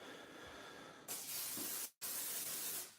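Cooking spray hisses from an aerosol can onto a silicone mold in two close, loud bursts, separated by a brief silent gap.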